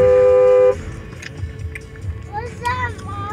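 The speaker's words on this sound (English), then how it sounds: "Me honking at stupid people." A car horn honks once, loud and close, a sustained blare lasting under a second in traffic, followed by road noise and a voice talking.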